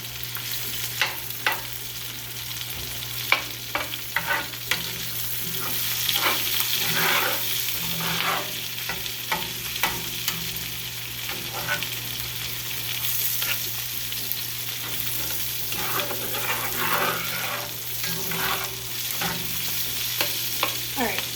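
Chopped vegetables sweating and browning in a pan, a steady close sizzle throughout with repeated stirring scrapes and light clicks of a utensil, no talking.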